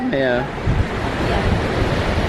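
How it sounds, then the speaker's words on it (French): Open sea surf and steady wind roar from a ship's deck on a calm day at sea, a continuous broad wash of waves and gusts, with a brief spoken word near the start. "La mer est plutôt calme, franchement ça va. Il y a du vent"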